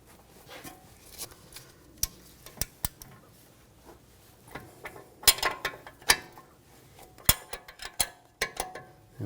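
An 18mm wrench works the sway bar link nut on a 2007-2013 BMW X5, giving sharp metallic clicks and taps in irregular bursts, close up, with no one talking.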